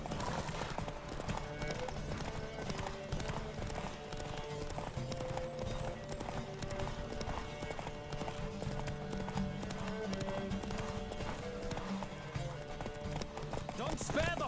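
A horse gallops in a race in The Witcher 3, with rapid, steady hoofbeats drumming throughout and a faint neigh, while a voice speaks over the pounding.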